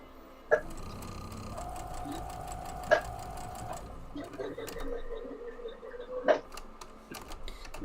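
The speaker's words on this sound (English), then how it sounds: "your sewing machine sounds like someone giggling" A sewing machine runs quietly with short bursts of whirring and a few sharp clicks between them, faint and close.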